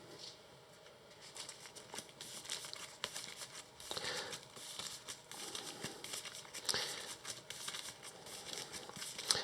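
Cards from the encounter deck of the Arkham Horror card game are shuffled by hand: quiet, close crinkly riffling and soft flicks in uneven bursts, with no talking.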